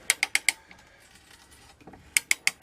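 A restored 1890s T-handle ratchet brace clicks through two quick bursts of four sharp, evenly spaced ratchet clicks, close and crisp. Softer creaks and shuffling fill the gap between bursts.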